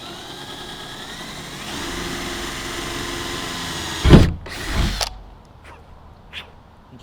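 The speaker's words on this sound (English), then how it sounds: "And just like that, it's drilled." A power drill boring a hole while a car spoiler is fitted, heard as a steady whirring drone with a sharp, loud burst partway through, then brief clunks and fading handling noise.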